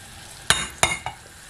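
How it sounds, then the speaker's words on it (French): Caramelizing sugar bubbling in a pan, with three short sizzling pops about a third of a second apart over a faint steady hiss, close and moderately loud. "Là on entend les bulles qui sont un peu moins vives."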